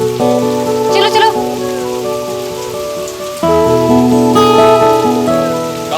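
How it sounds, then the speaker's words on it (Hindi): Steady rain patters and hisses throughout, with sustained musical tones playing over it at a fairly loud level. "बारिश हो रही है।"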